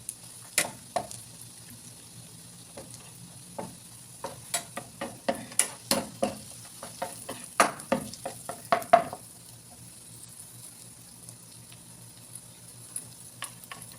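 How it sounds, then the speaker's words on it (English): Garlic sautés in a pan over medium heat with a soft, steady background sizzle, while a utensil stirs and taps against the pan in a cluster of quick clicks and scrapes midway, then quieter, sparser taps. "So saute the garlic."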